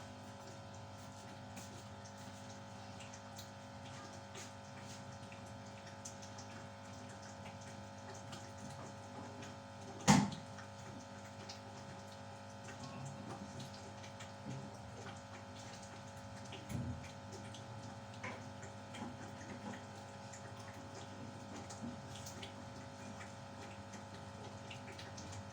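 Hot water pours into flour as maize-flour dough for makki ki roti is being kneaded: a steady, close wash of running water with one sharp knock partway through, and no voices.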